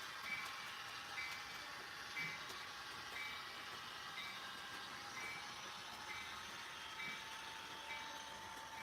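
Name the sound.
model train truck clicking from trapped plastic or ballast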